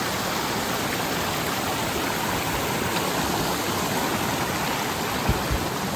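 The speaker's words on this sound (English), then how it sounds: "So this is the creek that was feeding that waterfall below." Creek flowing off a mossy, swampy area above a waterfall, a loud steady rush of water heard close and unbroken, with a couple of faint knocks near the end.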